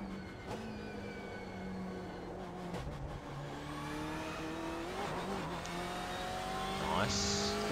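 BMW M8 GTE race car in the iRacing sim, its engine revving and shifting up through gears with tire noise, loud and continuous while someone speaks briefly over it.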